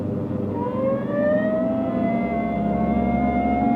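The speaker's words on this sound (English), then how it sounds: "Hit the siren" A police car siren wails steadily in a 1949 radio drama scene, a loud rising tone held over engine rumble with no talk.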